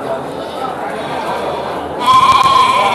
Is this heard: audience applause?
no